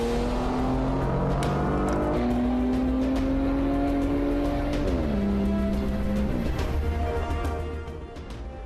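A Porsche Panamera e-Hybrid accelerates hard from 80 to 120 km/h, its engine note climbing through gears in loud, rising sweeps with a brief dip at a shift. The sound is close and continuous, easing off at the end.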